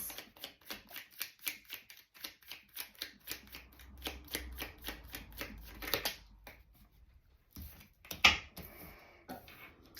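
Tarot cards are shuffled by hand in a quick, steady run of crisp riffling flicks, close and fairly quiet, followed by a pause and a few scattered handling taps and rustles, with no talking.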